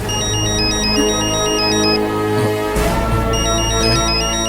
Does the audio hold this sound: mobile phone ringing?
yes